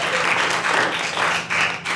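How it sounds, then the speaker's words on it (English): Thin, scattered clapping from a small part of a stand-up comedy audience. A few claps come in uneven bursts over a couple of seconds, fairly close and with no talk over them. "You hear those seven claps?"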